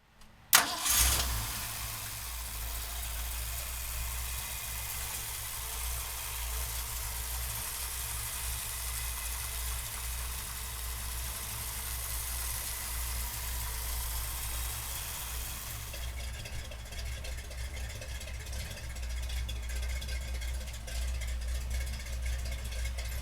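A 1970 Ford Bronco engine cranks briefly and catches, then settles into a steady, low idle that runs on for about twenty seconds, close by with no talk.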